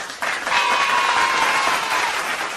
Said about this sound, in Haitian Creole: Applaudissements chaudement.